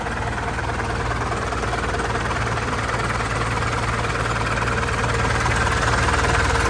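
A 1994 Ford F1000 Super Cab's MWM 229 turbo intercooler diesel idling slowly, a close, loud, steady low throbbing rumble with a continuous mechanical drone and no talking.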